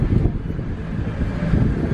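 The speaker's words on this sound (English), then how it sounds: "It's windy." Steady wind buffets the microphone outdoors at a Kissimmee amusement park near a Ferris wheel, a continuous low rumbling roar that swells and dips over two seconds, with no talking.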